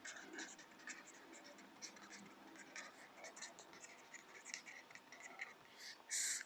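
Pen or marker scratching steadily as a transition function is written out on a board or page during a theory of computation lesson, faint and close, with someone talking over it.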